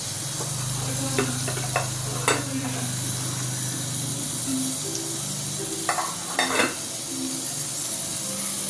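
Fennel seeds sizzle in hot oil in a pan while cooking egg thokku: a steady frying hiss with scattered sharp crackles and pops, plus occasional light clinks of a utensil, under quiet talk.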